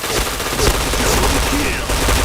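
Rapid automatic gunfire in a Nobunaga Katana multiplayer match, loud continuous bursts of shots filling the moment, with game effects layered in and no clear talk over it.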